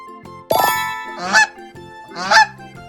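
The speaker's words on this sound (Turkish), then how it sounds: "Kaz. Kaz. Kaz." A goose honks three times, loud and close, with brief pauses between the calls and no other sound around them.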